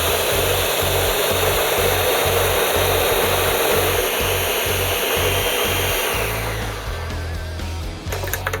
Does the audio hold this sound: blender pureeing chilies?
yes